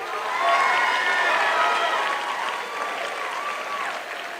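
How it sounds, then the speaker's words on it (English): A large graduation-ceremony audience gives sustained, dense applause that swells early and then eases slightly, with a few voices mixed into the crowd noise. "Let's give them one more round of applause."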